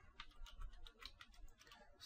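Quick, uneven keystrokes on a computer keyboard while running Kali Linux tools, a steady patter of light clicks at close range with no talking.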